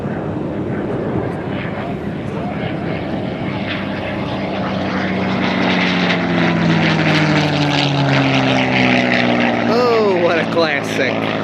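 A P-51 Mustang with a Packard engine flies aerobatics at an airshow, its propeller drone loud and continuous, swelling and shifting pitch as it passes overhead.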